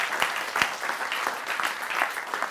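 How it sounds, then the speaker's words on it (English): Live studio audience at an evening event clapping together, a dense, steady wash of many hands with a few sharper individual claps standing out, fairly close and continuous throughout. "Big clap"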